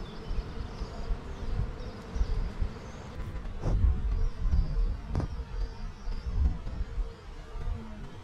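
Honeybees buzzing steadily up close at a hive entrance, a dense humming drone with a few brief sharper passes flying near, continuous throughout.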